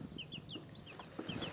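Hens cluck softly in a small backyard coop, with several brief, low clucks close by and faint chirps from chicks.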